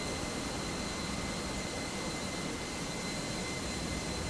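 Steady broadband roar of an airliner's jet engines at an airport in Microsoft Flight Simulator 2024, a continuous far-off whine and rush with a faint high tone, even in level and unbroken by speech.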